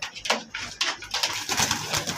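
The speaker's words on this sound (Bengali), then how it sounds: "এখানে কিছু সিঙ্গেল কবুতর দেখাইতেছি" Pigeons at a pigeon farm coo in short, breathy bursts close by, overlapping in an uneven rhythm with no talking.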